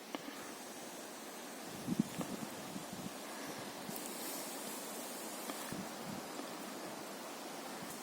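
Soft, steady cold wind rushes through autumn woods, a faint continuous hiss with occasional gusts buffeting the microphone; no voices.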